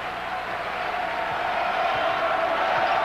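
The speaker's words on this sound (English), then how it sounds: "The crowd trying to cheer on the Duke defense" Arena crowd noise at a 1987 Duke Blue Devils versus Georgia Tech Yellow Jackets college basketball game, a steady roar of cheering fans urging on the Duke defense, swelling slightly louder over the stretch.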